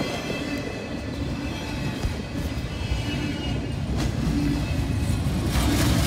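Norfolk Southern freight train rolling past in Pittsburgh, a steady loud rumble of railcars with rhythmic wheel clatter and faint metallic squeal, building slightly toward the end, with no talking.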